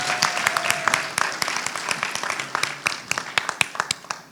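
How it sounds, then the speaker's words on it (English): Scattered audience clapping at a community anniversary gala, individual hand claps sharply distinct and irregular rather than a dense wash, fairly quiet and lively throughout. "Can we get a hand clap for that?"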